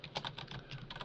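Quick burst of computer keyboard typing while a slash chat command is entered, a close, steady run of light key clicks with no one talking.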